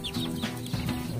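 Aseel chickens in a backyard: a few soft, low clucks from nearby birds over a quiet outdoor background, with no talking.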